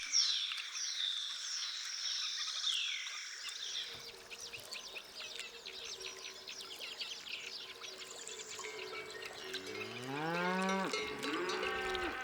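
A herd of cattle low in deep, drawn-out moos over a steady outdoor background in Dehesa wood pasture, with a rising chorus of bellows near the end.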